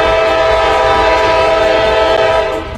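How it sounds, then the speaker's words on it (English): The horn of an elevated train outside sounds loud and close as one sustained, harmonic-rich blast that holds steady and then cuts off near the end, with faint rail rumble underneath. "that is the train horn from a train outside"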